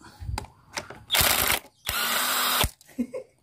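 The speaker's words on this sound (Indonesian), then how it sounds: "pakai impact aja mas biar cepat" Impact wrench loosening bolts on a Yamaha Fiz R/Force1 motorcycle engine during a teardown, with two loud, sustained rattling bursts, the second longer, separated by brief pauses and a few quieter clanks.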